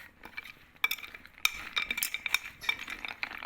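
Peanuts being stirred into a spice coating in a bowl, with a spoon scraping and clinking against the sides in quick, uneven strokes, close up and fairly quiet with no talk.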